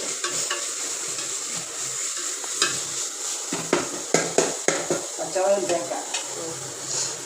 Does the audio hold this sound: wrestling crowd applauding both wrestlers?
no